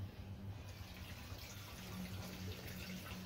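White vinegar pours steadily into a bucket holding an axe head, a continuous close, low liquid gush running throughout with no talk.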